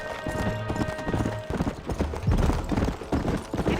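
Horse hooves galloping in Red Dead Redemption, a steady rapid clip-clop close up and loud, with a brief whinny and game tones in the background.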